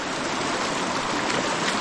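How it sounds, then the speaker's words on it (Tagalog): Natural spring water flowing steadily at an outdoor swimming spot beside farm fields, a continuous broadband rushing wash that stays even and close throughout, with no talk over it. "Ayun po yung bukal eh."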